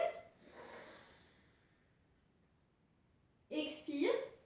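A long, soft breath drawn in through the nose during a Pilates exercise, followed by a pause and then a louder breathy burst, close to the mic.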